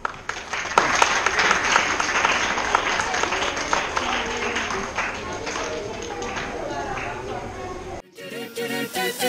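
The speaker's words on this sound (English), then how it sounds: "So please welcome them with a big round of applause." Applause from an audience at a school anniversary function greets a nursery class arriving for a tableau, dense steady clapping with crowd murmur lasting about eight seconds before cutting off into a different, quieter passage.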